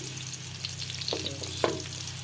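Garlic, onion and ginger sauté in a pan with a steady low frying hiss, broken by two short scrape-like bursts of stirring near the middle.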